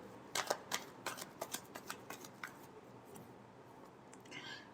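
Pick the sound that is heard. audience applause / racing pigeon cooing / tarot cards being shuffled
tarot cards being shuffled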